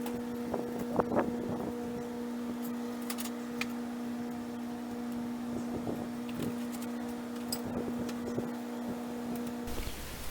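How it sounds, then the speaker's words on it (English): Miller 302 diesel welder engine running, a steady low droning hum with a strong constant tone and some faint knocks and clicks, continuous and fairly distant. "This 302 diesel from Miller is just so obnoxiously loud"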